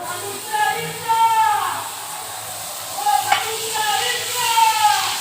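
Tomato frying in a pan for prawn curry, a hissing sizzle that swells and fades with stirring, while someone talks over it.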